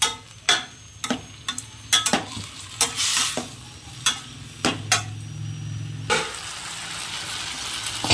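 Tomato gojju simmering in a pan while being stirred: a dozen sharp, irregular spatula knocks and scrapes over a low bubbling sizzle, ending in a steadier hiss, with no voices.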